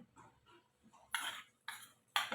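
A spoon scoops ghee and taps against a pan set over a medium flame, giving three distinct metallic clinks after a few softer scrapes.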